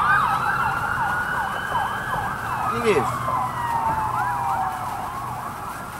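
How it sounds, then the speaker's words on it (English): A wailing emergency siren sweeps up and down steadily over traffic noise, with a brief voice cutting in near the middle. "Hear the siren?"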